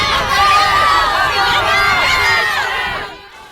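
A large crowd cheers and shouts in jubilant welcome, as for a king entering Jerusalem, a loud dense roar of many voices that fades out near the end.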